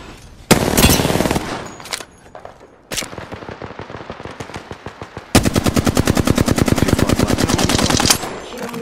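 Gunfire in the video game Apex Legends: a few scattered single shots, then a long rapid burst of automatic fire with evenly spaced close, loud reports, no voices.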